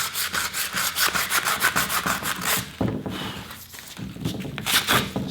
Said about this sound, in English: So I'm going to switch over to the 80 grit.